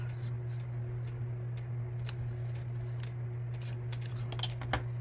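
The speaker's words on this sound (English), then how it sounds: "I'm going to cut around my ghostie and trim this corner piece off." Scissors snip and trim around a paper ghost cutout and a corner piece, quick soft clicks and cuts spread over a steady low hum, close and fairly quiet.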